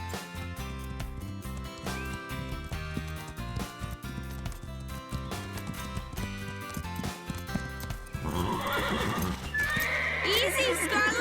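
Horses neigh and whinny with clip-clopping hooves, over background music, with a burst of louder neighing near the end.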